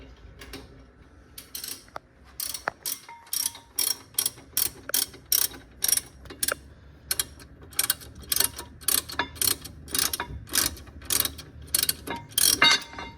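A ratchet unscrews the brake caliper bracket bolts on a Ford Focus XR5/ST225 during a slotted rotor upgrade, giving close, crisp clicking in rhythmic bursts of rapid ticks, with short pauses between strokes.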